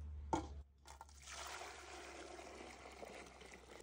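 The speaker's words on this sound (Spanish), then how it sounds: "Cogemos la leche que hervimos y agregamos la mitad en otra olla." Freshly boiled milk pours from one pot into another, a steady, moderately loud liquid rush that starts after a brief clatter and runs continuously to the end, with no talking.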